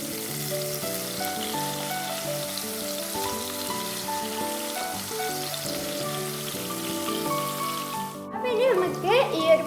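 Pineapple slices fry in a pan with a steady sizzle under music, and a sharper burst of crackling rises near the end.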